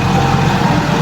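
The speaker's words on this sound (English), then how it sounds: "This is our forklift, and now we needed to enter into the warehouse and then pick up the goods" A forklift engine idles in a warehouse, a steady low rumbling drone that holds even and fairly loud throughout, with no voices.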